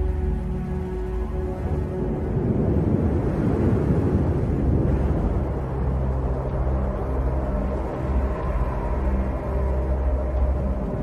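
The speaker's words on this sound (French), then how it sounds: "Le vent s'est levé." Steady, broad rushing wind fills the scene, a constant low roar with gusty swells, loud and close throughout with no voices.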